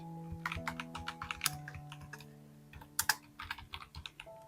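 Someone types on a computer keyboard in rapid bursts of close, crisp key clicks with short pauses between runs, under a sustained tonal background.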